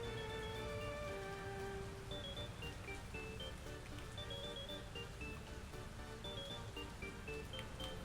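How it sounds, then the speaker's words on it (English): Rain falls in the Soviet-era city-building game Workers & Resources: Soviet Republic, a steady, faint patter mixed with a drawn-out tonal melody of background music, with no talk. "Man, it's raining."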